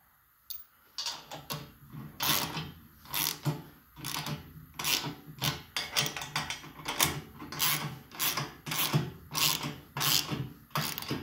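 A ratchet tightens bolts on the steel mount of a floor scale's load sensor, giving short bursts of sharp clicking strokes in an uneven back-and-forth rhythm, close and distinct with brief pauses between bursts.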